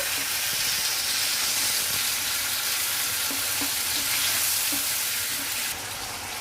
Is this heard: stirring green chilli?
yes